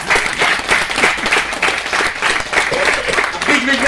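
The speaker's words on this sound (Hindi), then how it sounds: "बीच बीच में जोर जोर से तालियां बजनी चाहिए" A crowd applauds steadily, a dense wash of clapping that holds at an even, fairly loud level throughout.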